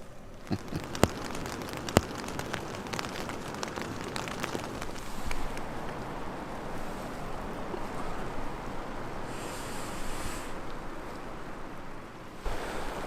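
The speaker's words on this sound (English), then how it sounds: "Rain, rain, rain." Steady rain patters on a taut tent roof overhead, a dense close hiss with occasional sharper drops, no voices.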